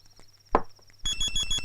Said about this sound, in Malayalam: നിന്റെ ഫോൺ അടിക്കണേ.